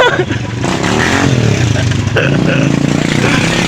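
Motorcycle engines rev loudly and continuously during a tug-of-war contest, a rough clattering drone with shifting pitch, while people shout over it.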